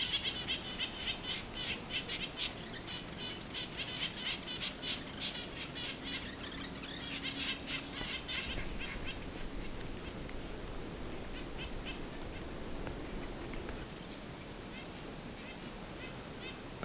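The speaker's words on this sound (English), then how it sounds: "Nuthatches are making quite a racket." Nuthatches call in a noisy outdoor setting during a winter bird count, giving repeated high chirps and soft, warbling twitters in clustered bursts over steady broadband background noise, moderately near and never loud.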